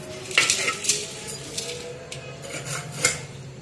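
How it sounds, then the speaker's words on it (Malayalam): Coarse rock salt poured into a pot of pickled lubika fruit, giving a few sharp clattering rattles against the vessel over a steady faint background, with no talking. "ഇതിലേക്ക് കല്ലുപ്പ് ഇടുന്നു കേട്ടോ"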